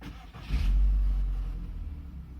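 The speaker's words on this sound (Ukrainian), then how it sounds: "запускаємо мотор" A VW Golf 4 1.6 16V 105hp engine catches and settles into a steady low idle rumble, loud and close after a brief rise, after an oil and filter change.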